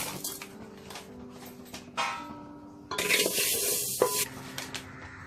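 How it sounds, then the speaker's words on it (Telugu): Fenugreek seeds dry-roasting and being stirred in a pan, a steady close scratchy rustle with hissing bursts and clinks of the utensil against the metal, no voices. "మెంతులను కూడా వేయించుకుందాం."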